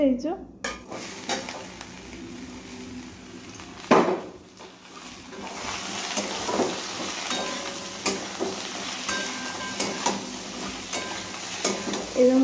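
Bitter gourd and other vegetables fry in a pan for shukto and are stirred. A steady close sizzle runs throughout with a sharp utensil clack near the start, and someone speaks briefly over it.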